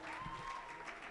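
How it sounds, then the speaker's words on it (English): Audience applause at a dinner event, steady dense clapping from a crowd filling the short moment at an even level. "So a hand clap to Duncan Mochama."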